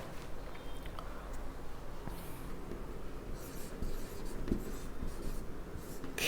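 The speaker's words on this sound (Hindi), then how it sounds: "जैसे मैं एक वाक्य लिखता हूं यहां पर" A sentence written by hand produces a continuous soft scratching of pen or pencil on paper, close and quiet, steady over several seconds with no talk.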